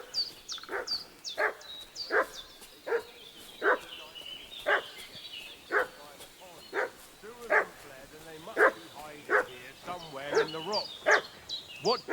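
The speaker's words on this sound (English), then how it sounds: "What's that dog making such a fuss about?" In Kingdom Come: Deliverance II, a dog barks insistently in repeated yips and woofs, fairly close, in an uneven rhythm with short whimpering notes mixed in.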